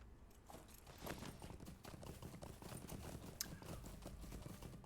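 A horse's hooves clip-clop in the online game LotRO, a rapid, even run of faint hoof strikes with a brief louder knock near the end.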